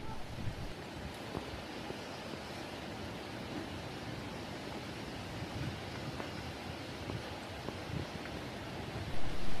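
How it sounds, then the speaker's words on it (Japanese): Steady broadband rushing of water from Tengkulese, a two-tiered waterfall in Manggarai, heard from a short distance, continuous and even throughout with no voices. "滝が見え、水の流れる音も聞こえてきます。"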